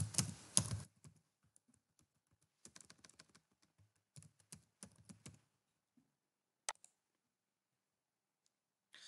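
Someone types on a computer keyboard while editing Python code, starting with a loud burst of clicks and then giving way to scattered keystrokes and short runs of typing with quiet gaps between them.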